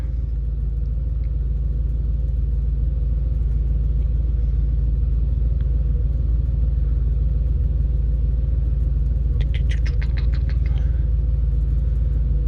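Mercedes-Benz E55 AMG V8 idling and revving steadily in park with the park brake set, a loud, constant low rumble throughout with a brief burst of higher rattling near the end.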